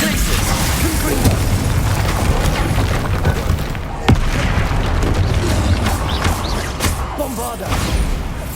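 The Bombarda blasting spell goes off in the wizarding game Hogwarts Legacy, giving a loud, heavy boom with crashing debris and a sharp crack amid sustained rumbling, with a voice briefly heard through the noise.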